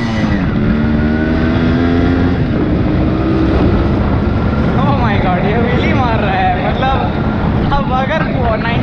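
A modified 1990 Yamaha RX100 two-stroke converted to a dirt bike, popping a wheelie off-road: a loud, continuous engine drone with rising and falling revs in the later part, under talk and wind buffeting.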